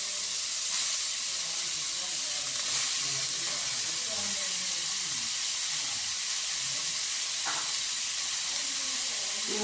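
Chopped onion and cauliflower sautéing in a pan, with a steady bright sizzle and hiss throughout and a few soft stirring scrapes of a spoon underneath.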